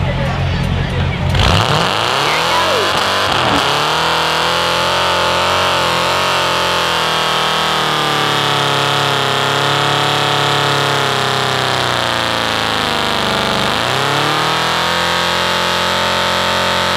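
A Ford pickup truck with pink wheels works through a county fair mud bog. Its engine drones loudly and continuously, swelling and dipping in pitch, while people talk over it.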